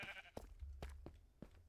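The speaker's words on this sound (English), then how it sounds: "And these sheep are loud." Minecraft sheep bleat several times in quick succession, short nasal cries repeating close by at a low volume.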